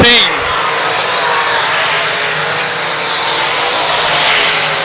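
Race cars roaring past on a lap at Lakeside Speedway during an A-main, a loud continuous engine wash with a dense broadband rush that stays strong across the whole stretch, a voice faintly mixed in.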